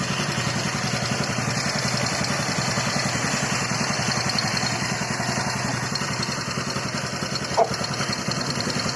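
A motorcycle CVT scooter engine idles steadily with a low, even putter and light mechanical clatter, close by and continuous, with one small click near the end.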